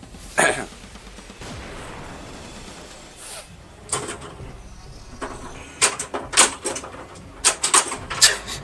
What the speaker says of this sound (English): Sentry guns.